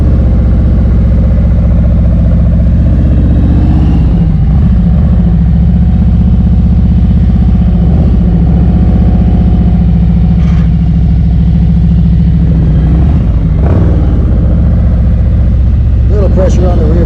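A motorcycle engine idles at low revs with the clutch held in the friction zone, giving a steady, low, continuous rumble that barely changes across the whole stretch.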